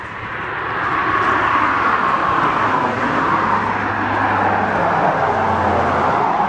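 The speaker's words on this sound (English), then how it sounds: "Now, when they pass by, you get this loud whine sound." A loud, steady whine of tires on pavement as traffic passes nearby, building up quickly and holding without speech.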